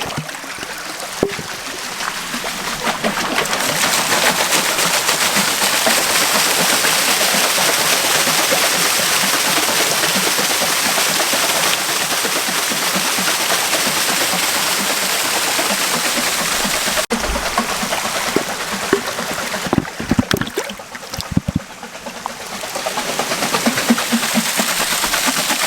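Loud, steady rush of water pouring and splashing through an opened flume gate of a small off-grid hydro setup, a continuous broadband roar that roughens and sputters near the end.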